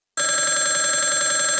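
A phone rings for an incoming call, a loud, steady electronic trill that starts abruptly and runs unbroken for over a second before cutting off, with no voices over it.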